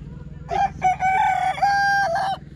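Rooster crowing once, close and loud, a rising and drawn-out cock-a-doodle-doo over a low background hum.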